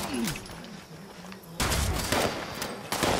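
Gunfire from a weapon in Fallout 76 is heard: sporadic shots at first, then a loud sustained volley of rapid fire in the second half, with a brief voice underneath.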